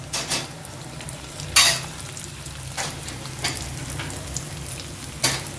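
Chicken drumsticks cooking in oil over a low flame give a steady soft sizzle, broken by a few sharp clatters of a utensil against the pan.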